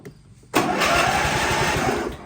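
A Cub Cadet LTX1050VT lawn tractor's small engine with 425 hours cranks and catches, then runs loud and steady after a quiet moment of low mechanical noise.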